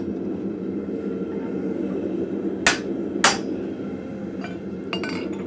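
Two sharp, ringing hammer blows about half a second apart seat a drift snugly into hot steel at a blacksmith forge, set against a steady low roar of the fire, with a few faint clinks afterward.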